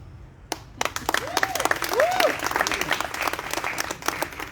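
An audience at a book launch for a Makerere University student activist bursts into steady clapping and applause, with dense sustained hand claps and some voices mixed in the crowd noise.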